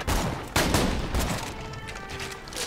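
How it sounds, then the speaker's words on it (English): Skeleton enemies open fire in Borderlands 2, with loud overlapping volleys of gunshots and booming blasts that hit hard, then trail into a rumbling, echoing battle din. "Suddenly you're attacked by a horde of skellies. Uh they start shooting at you!"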